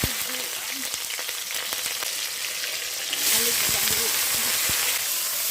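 Cumin seeds and green chillies sizzle in hot oil during village-style cooking, a steady, close, loud frying hiss that swells briefly partway through, with some faint talk underneath.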